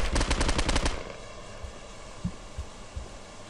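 Rapid gunfire from the first-person shooter game Postal 2 rattles close and loud for about a second, then gives way to a quiet hum with a few faint thumps.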